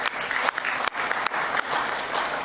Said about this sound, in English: Can we please clap hands for that resolution that you passed?